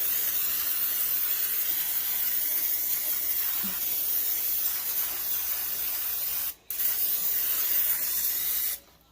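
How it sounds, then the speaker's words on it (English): Steady hissing spray from an aerosol cooking oil can into a muffin tin, continuous for several seconds with two brief pauses, close and fairly loud, no voices. "we're going to very well spray every single one of these"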